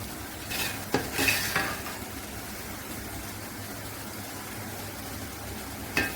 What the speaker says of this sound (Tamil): 600 கிராம் ஆனியன் போட்டு வதக்கிட்டு இருக்கோம்.